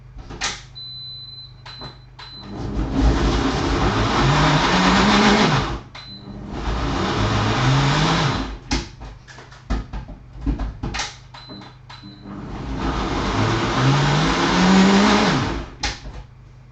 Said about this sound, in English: Right, we need to whack it in the blender.